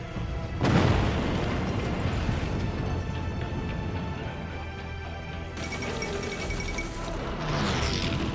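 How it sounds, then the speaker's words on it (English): In the Hearts of Iron IV strategy game, a nuclear bomb detonates with a loud booming blast and a long rumbling roar, and a second swell of rumble follows later. "They saw that nuke go off and piled everything in."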